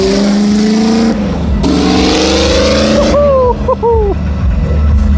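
Engine roar of a car lapping a handling track at an Audi Formula 1 reveal event, loud and close, with rising and falling revs and a whining shift; someone talks over it.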